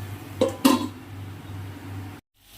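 A lid is set on a cooking pot with two quick metallic clinks, followed by a low steady kitchen hum that cuts out abruptly near the end.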